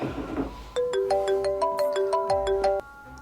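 An incoming call on a mobile phone sets off a ringtone: a bright, repeating melodic pattern of electronic tones that plays clearly for about two seconds and then stops suddenly, with no talk over it.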